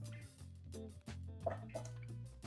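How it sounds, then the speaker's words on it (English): Water poured over succulents in gritty potting mix sitting on a tray, with repeated close dripping and trickling as it drains through the soil. "So I'm just going to pop them on this tray and literally just give them a good drink of water."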